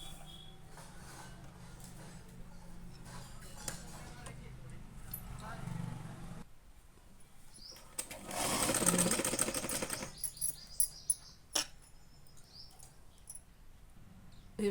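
A sewing machine runs in bursts while stitching small pleats into a frill for a girl's umbrella frock, the motor whirring loudest in one sustained run, with someone talking over the work.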